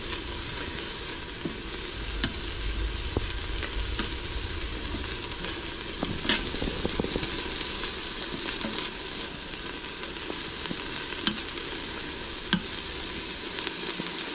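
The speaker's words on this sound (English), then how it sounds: "we're still sauteing a few more minutes here" Onions saute in an Instant Pot for beef stroganoff, giving an even, continuous sizzle with occasional sharp pops and faint stirring scrapes, no talk over it.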